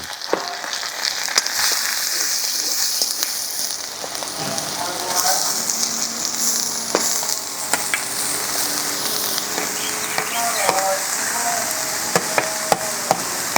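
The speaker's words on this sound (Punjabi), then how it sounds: "ਗਾਜਰਾਂ ਜਿਹੜੀਆਂ ਅਸੀਂ ਚੌਪ ਕੀਤੀਆਂ ਸੀਗੀਆਂ ਉਹ ਇਹਦੇ ਵਿੱਚ ਕੜਾਈ ਵਿੱਚ ਪਾ ਦਿੱਤੀਆਂ ਔਰ ਆਵਾਜ਼ਾਂ ਦੇਖੋ ਕਿੰਨੀਆਂ ਸੋਹਣੀਆਂ ਆ ਰਹੀਆਂ ਨੇ" Chopped carrots sizzle steadily in desi ghee in a kadai, a continuous close crackling hiss with scattered sharp pops throughout.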